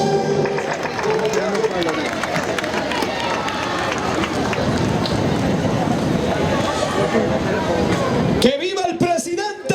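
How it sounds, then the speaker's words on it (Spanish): A large crowd at a Guayaquil founding celebration with President Rafael Correa applauds and cheers in a dense, sustained roar, loud and continuous, with shouting voices mixed throughout. "el aplauso de la gente, de todos, el grito de bienvenida"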